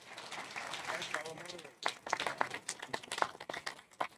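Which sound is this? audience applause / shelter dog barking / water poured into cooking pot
audience applause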